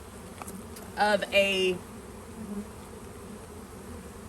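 Honey bees from a newly installed package buzzing in a brief, fairly close burst of overlapping high-pitched drones, rising for under a second and then fading into a quiet background hum.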